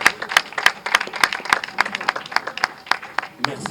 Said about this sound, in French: Je pense que ça mérite vraiment des applaudissements si nous pouvons les faire.